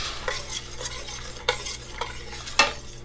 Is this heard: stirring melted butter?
yes